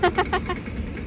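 A tractor's engine chugs as it drives past, a quick run of four rhythmic putting pulses that fade into a low rumble within about a second.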